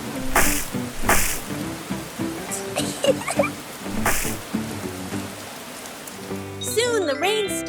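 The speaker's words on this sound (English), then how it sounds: "The rain fell pitter-patter, forming big puddles all over the ground" Steady rain falls and patters on the ground in a dense, continuous hiss with occasional heavier splashes, while soft music plays underneath and bright whistly tones rise near the end.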